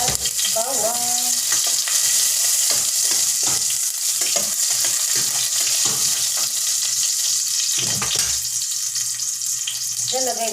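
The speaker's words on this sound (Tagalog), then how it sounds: "Igisa na natin ang ating sibuyas at bawang." Onion and garlic sautéing in a pan as the base for Filipino pork humba, a loud, close, continuous sizzle with periodic stirring scrapes and a brief splash of water, no speech.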